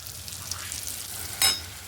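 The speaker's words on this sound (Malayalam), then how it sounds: "മീൻ വറുത്തൊന്നും നല്ല മൂത്ത് വന്നിട്ടുണ്ട്" Pieces of fish fry in a hot pan with a continuous close sizzle, which flares into a brief louder crackle partway through.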